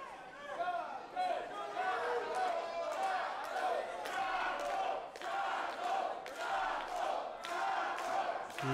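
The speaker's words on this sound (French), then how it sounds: "La foule, là, on les entend, ils sont bruyants." A noisy wrestling crowd at an NCW event in Sainte-Thérèse roars and cheers continuously, with loud swells and shouts rising throughout, a dense wall of voices and chatter filling the arena.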